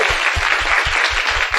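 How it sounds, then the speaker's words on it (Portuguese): Event audience gives a loud round of applause over a rhythmic low thumping beat, the clapping dense and continuous throughout. "Uma salva de palmas para ele"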